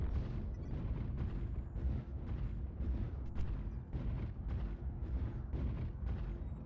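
Dense, continuous barrage of missile explosions in the MechWarrior Online video game, heavy low booms overlapping in rapid succession with crackling bursts, loud and sustained without pause.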